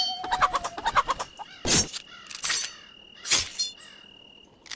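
Chicken clucking in the pirate video game Pixel Piracy, a quick run of sharp clucks followed by several louder squawks spaced about a second apart, with a thin electronic tone held underneath and no talk.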